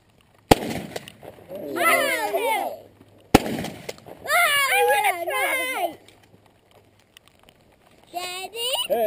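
Two sharp, loud shotgun blasts at clay targets, about three seconds apart, each followed by talking from nearby people including a child.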